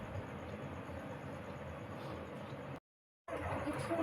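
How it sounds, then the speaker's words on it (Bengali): A train pulls out of a station with a steady, low rolling rumble that continues evenly, cuts out briefly, then returns just as loud. "এই দেখো ট্রেনটা বেরিয়ে যাচ্ছে"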